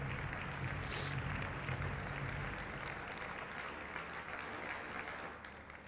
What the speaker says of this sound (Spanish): un fuerte aplauso para Loma Negra